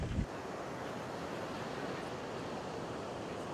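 Ocean surf and wind at the beach make a steady broad rushing roar, with gusty microphone buffeting and a short bump at the start.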